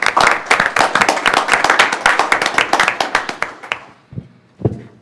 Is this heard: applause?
yes